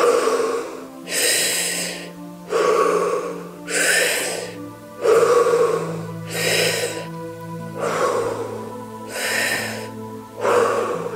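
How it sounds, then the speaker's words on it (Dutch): Deep, slow breaths in and out during a guided breathing exercise, close and loud, repeating about every one and a half seconds over a steady low musical drone with no talk. "Hele diepe in- en uitademing."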